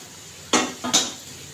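Sugar syrup poured into roasted flour and semolina in a pan for barfi, heard as two quick clanking scrapes of a utensil against the metal pan, close and fairly loud, without talk.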